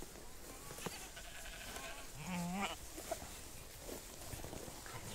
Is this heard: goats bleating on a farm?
yes